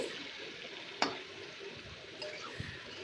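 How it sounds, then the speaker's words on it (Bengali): Marinated chicken stirred as it fries in oil in a wok, a continuous sizzle with a sharp scrape or clack of the utensil near the start and a few lighter knocks later, close and without speech. "এরপর ভালো করে আমি নাড়তে থাকছি।"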